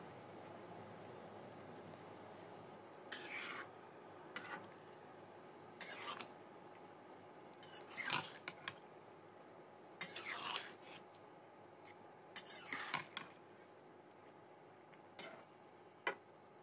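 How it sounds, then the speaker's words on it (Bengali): Basanti pulao being stirred together with fried vegetables in a pot, with scattered scraping and clinking strokes of a utensil against the pot at irregular intervals over a quiet background. "এরপর আবার সব ভালো মতো একসাথে নাড়িয়ে নেব।"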